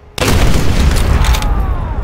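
A fuel tank explodes in the video game Call of Duty: World at War, a sudden loud boom that hits after a brief quiet moment and rolls on as a sustained roaring blast.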